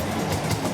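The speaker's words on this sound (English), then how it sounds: "Crowds filled the train to experience a steam engine here one last time" Steady low rumble and rattle of a steam locomotive pulling a zoo train, close and continuous with no talk.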